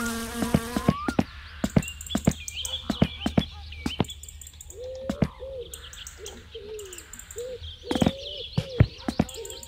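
Mosquitoes buzzing around in My Summer Car, a thin whining hum drifting near and far, punctuated by sharp clicks and taps from the game with birdlike chirps in the background.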